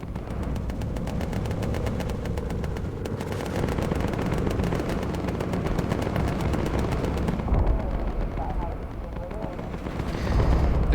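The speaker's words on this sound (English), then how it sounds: "Oh, flak. Oh, flak. Woo! Fucking 88s." Anti-aircraft flak from 88 guns in the Bomber Crew air-combat game: dense, continuous rumbling bursts and crackling explosions fill the whole stretch with loud, heavy booms, mixed with a man's excited speech.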